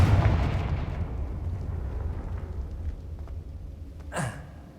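A Confringo blasting-spell explosion from the Hogwarts Legacy game opens with a heavy low boom that fades away over several seconds, followed near the end by a brief rising whoosh.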